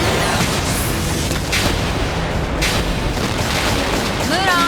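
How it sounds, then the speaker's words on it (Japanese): Missile blasts in an anime battle scene, a dense continuous roar of booming explosions and artillery-like fire with several sharper bursts rising out of the din, loud and sustained throughout. "ミサイルの炸裂音"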